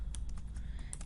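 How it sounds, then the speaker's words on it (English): Quiet, steady keystrokes on a computer keyboard as text is entered into a PowerPoint form, a rapid run of light clicks over a faint low hum. "I am going to type in Online Learning Plan"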